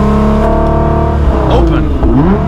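A Nissan GT-R with an Armytrix exhaust revs up close and loud, its engine note rising and falling in a sweeping burst over a steady rumble.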